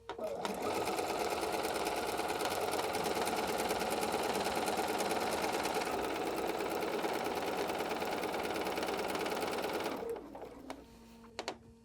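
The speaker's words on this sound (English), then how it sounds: "I'm going to sew all the way to this corner" Sewing machine stitches binding along the edge of a 60-degree diamond quilted table topper, a steady loud mechanical whir running about ten seconds before stopping abruptly, followed by faint handling noises.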